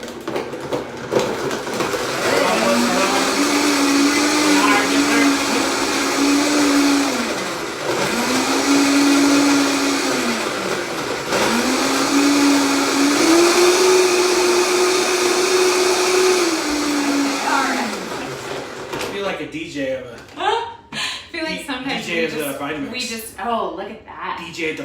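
A Vitamix blender whirring loudly and steadily while blending a smoothie for a smoothie bowl, its motor pitch rising and dipping in several surges before stopping, followed by people talking.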